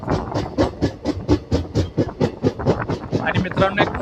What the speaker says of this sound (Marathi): एक फ्रेट ट्रेन आहे.